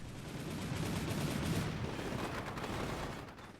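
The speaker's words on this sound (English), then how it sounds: "right after I start hitting it with 35mm autocannon" 35mm autocannon fire in the Combat Mission Shock Force 2 war game, a dense continuous rumble of rapid shots and impacts hitting a building, loud and sustained, no talk.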